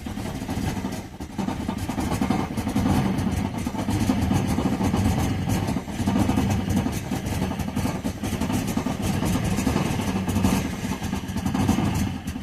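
A Daimler XJ Series 1 engine runs unevenly after a long period of disuse, with a loud, close, lumpy idle, rough pulsing and mechanical clatter throughout, and no voices.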